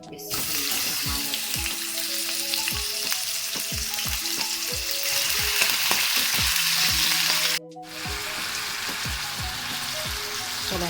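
Boneless chicken pieces sizzle and fry in a hot pan for egg rolls, a steady loud crackle with intermittent stirring and scraping clinks, briefly cutting out before resuming.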